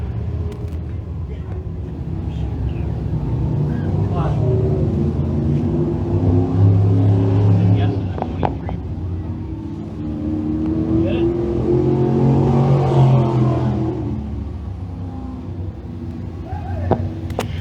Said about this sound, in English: Tyler Cartier, 360 car out on the racetrack, just trying to get some track time and get some laps in.